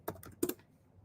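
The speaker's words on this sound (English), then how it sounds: "And then I'm going to type in Flask run." Quick bursts of keystrokes on a computer keyboard, a few close clicks clustered in two short groups before falling quiet.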